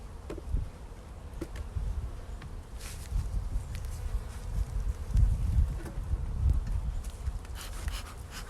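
Honeybees crawl and buzz around a hive that has been robbed out, a faint, steady insect hum with light scattered movement and no voices, sparse rather than busy.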